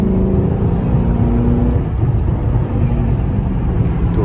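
Chrysler 300C engine pulling under throttle, a loud, close, deep exhaust drone that holds steady and rises slightly in pitch without pause.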